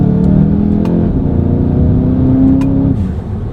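A Volkswagen Mk7 GTI engine with a diverter valve spacer and DSG transmission revs hard with a steady droning tone that rises slightly, a couple of sharp whooshing chirps breaking through, then eases off near the end.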